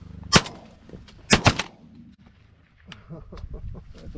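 Shotgun blasts while hunting pigeons outdoors: one sharp loud report, then after a second two more in quick succession, followed by quiet field ambience with faint rustling.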